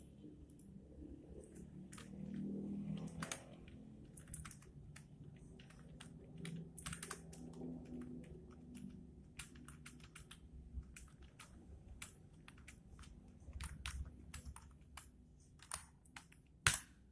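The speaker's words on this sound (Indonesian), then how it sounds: "Oke, kita akan memulai mengetik teman-teman." Fingers type on a computer keyboard while building a table, a steady run of quiet, irregular clicks and taps throughout with a few sharper keystrokes and no speech.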